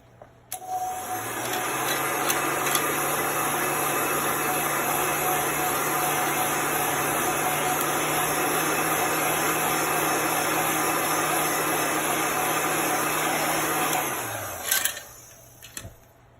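A heat tool blows steadily close by while drying a chalk transfer on a nonstick mat, a continuous whirring hum that starts about a second in, holds evenly for roughly thirteen seconds, then cuts off.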